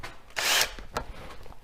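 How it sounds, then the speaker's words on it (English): A power drill run in reverse to back screws out of a lathe faceplate on a woodturning bowl blank: one short whirring burst of about a third of a second, then faint clicks and handling noise. "Let's get the drill over here."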